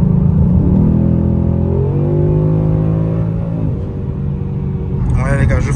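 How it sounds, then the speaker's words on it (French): A Ford Mustang GT V8 engine revs up under acceleration, a loud, steady rumble with rising harmonic tones that climb and then settle, heard close with no talking. "je fais une petite accélération ici"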